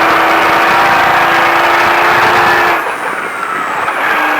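A Baja truck roars loudly at full throttle with a sustained, dense engine drone, then the note drops sharply as it comes off the gas and brakes, the engine falling to a lower, rougher rumble close by.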